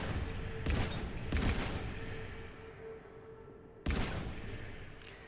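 Gunfire from the Mass Effect 3 video game: a few separate sharp bursts spread across the span, standing out over a steady hum of in-game ambience.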